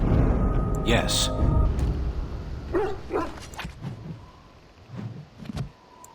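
A war dog in a video game barks and snaps in a few short, sharp bursts, mixed with game effects and a speaking voice.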